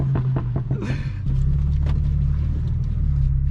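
A 2014 BMW 335i engine and exhaust, with a rough burbling rumble that thickens into a louder, steadier drone partway through, heard close with no talking.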